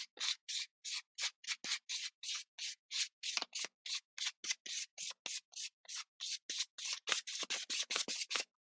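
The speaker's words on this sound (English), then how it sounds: "use the scraper and scrape it around" A scraper drags paint across an art journal page in rapid, regular strokes, each a short dry scrape, around thirty in quick succession, close and fairly quiet with no voices.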